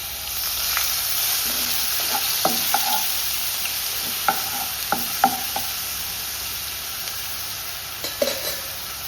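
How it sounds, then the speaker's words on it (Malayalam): Ginger garlic paste sizzles in hot oil left from shallow-frying prawns for biryani, a steady frying hiss with scattered sharp spatters and a few louder pops, close and alone without talk. "ഇനി ആ ഓയിലിലേക്ക് തന്നെ ഇഞ്ചി വെളുത്തുള്ളി പേസ്റ്റ് ഇട്ട് കൊടുക്കുന്നുണ്ട്."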